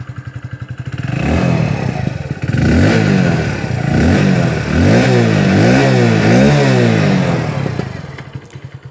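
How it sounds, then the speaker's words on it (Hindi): A Hero Splendor Plus Xtec commuter motorcycle engine starts and idles with a steady, throbbing exhaust putter, then revs up and down in several rising and falling surges, close by. "अब मैं इंजन को ऑन करके इसकी जो एग्जॉस्ट साउंड है वो भी आप लोगों को सुना दूँ"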